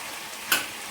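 Tomatoes for a spicy green chilli and tomato chutney cook in a pan, giving a steady low frying sizzle with one brief louder stir or crackle partway through.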